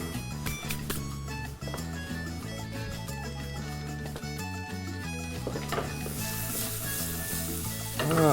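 Young onions with garlic sizzling and frying in a pan, a steady close crackle with occasional stirring scrapes and no talk, rising slightly louder at the end.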